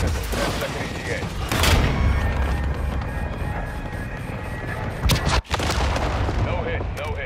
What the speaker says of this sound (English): Missile ready to deploy. Target marked. Requesting fire mission.